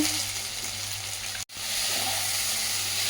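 Soybeans fry with tomato sauce and black pepper in a pan, giving a steady close sizzle and hiss. A brief total dropout breaks it about halfway through, then the sizzle resumes.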